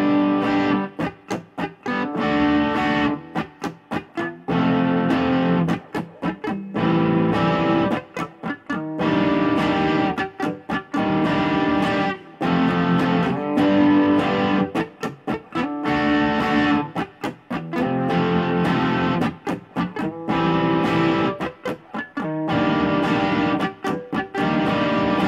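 An electric guitar with distortion slowly strums the verse chord progression in a steady down-up rhythm, each chord ringing before brief muted gaps, continuous and loud with no talking.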